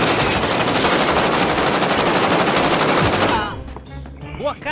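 Dense, continuous rapid gunfire from the video game Warzone for about three seconds, then it cuts off, leaving quieter game sounds and a faint voice.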